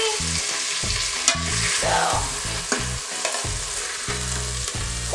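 Fish frying in an Instant Pot on the saute setting for Jamaican brown stewed fish, a loud steady sizzle close by, with a rhythmic low clunking of the pot or utensil recurring underneath and a brief spoken word.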